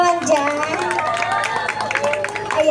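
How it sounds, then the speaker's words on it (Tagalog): Audience at an evening barangay event in Abalos Bukid cheering over a backdrop of crowd noise, with sustained clapping and shouts blending into a loud, busy wash of voices. "Wala po ba masigabong palakpakan na may kasamang hiyawan dyan?"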